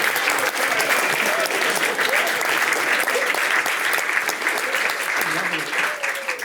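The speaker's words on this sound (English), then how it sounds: "Round of applause for John Bauer" Wedding guests applaud after a speech, a sustained, dense burst of clapping from a roomful of people, with some voices mixed in.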